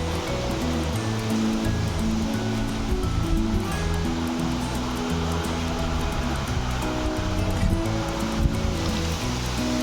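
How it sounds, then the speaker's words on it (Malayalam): Heavy rain pours steadily, a dense unbroken hiss with a low rumbling undertone throughout. "ഇവിടെ മഴ പെയ്തോണ്ടിരിക്കുകയാണ്"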